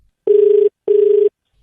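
Two loud, evenly spaced telephone ring tones on a redialed call, each about half a second with a short gap, clean and alone with no talk.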